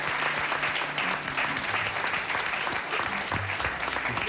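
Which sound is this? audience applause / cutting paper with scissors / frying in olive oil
audience applause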